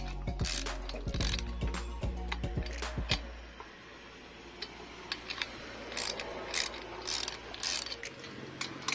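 Bolts being tightened on the clutch of a Kawasaki TD40 grass cutter, a close series of quick ratcheting clicks and metallic ticks that begins busy and dense, then thins into sparser, fainter clicks.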